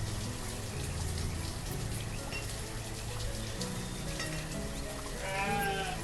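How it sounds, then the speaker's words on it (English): Sheep in the village-building game Banished, heard as a steady ambient game soundscape with a few bleats rising near the end, no talking. "Our sheep are moving into the pen"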